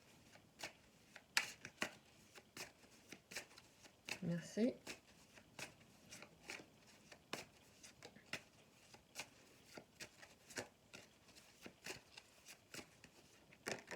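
Oracle cards being shuffled by hand during a tarot-style reading, producing a steady run of crisp slaps and riffles through the whole stretch, with a brief spoken word partway in.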